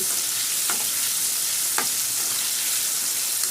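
Prawn pakoda frying in hot oil while being stirred: a steady, dense sizzle with a couple of brief spatula scrapes cutting through, close and continuous, with no voices.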